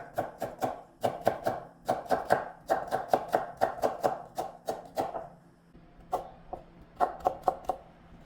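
A knife chops vegetables on a cutting board while preparing japchae, with quick clusters of crisp, close taps separated by short pauses.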